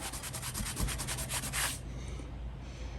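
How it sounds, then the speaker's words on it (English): Rhythmic hand sanding of 1955 Westinghouse fan blades, quick back-and-forth rubbing strokes for under two seconds, then a quieter scraping hiss; close and steady, no voices. "I'm thinking I might do a very light sanding of these anyway."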